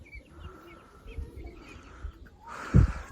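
Pigeons coo softly inside a poultry shed, low murmuring calls with faint chirps behind them, capped by a sudden brief louder flutter or thump near the end.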